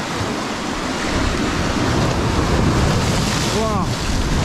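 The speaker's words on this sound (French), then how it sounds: "en plus il y a des vagues" Sea waves roll and break along the shore under strong wind, a loud continuous roar of surf and gusts buffeting the microphone, with a short whistling sound near the end.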